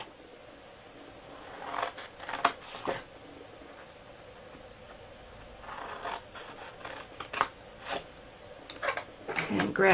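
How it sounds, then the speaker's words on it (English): Scissors snipping up the score marks on the sides of a paper treat gift box, in short bursts of crisp cuts and paper rustles with pauses between them, close and fairly quiet. "we're going to cut up each score mark on the sides here, up to the first score mark"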